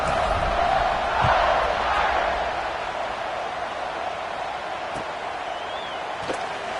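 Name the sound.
football stadium crowd buzzing after a score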